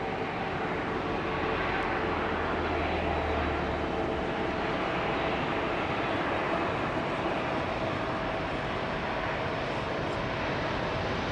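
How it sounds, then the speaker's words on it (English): An airliner with CF6 engines lands on runway 27R at London Heathrow using little reverse thrust, a steady, even engine roar that holds at a constant level throughout, moderately distant, with no voices. "CF6s. Very little reverse action being used though."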